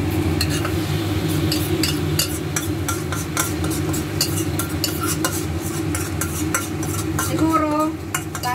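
Seafood sautés in a pan for kare-kare, a steady close sizzle broken by frequent scrapes and clinks of a utensil stirring against the metal.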